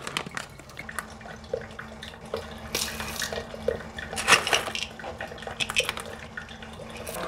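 Hot water is poured into a French press to preheat it, a quiet close trickle and splash with scattered clinks of glass and metal over a low room hum.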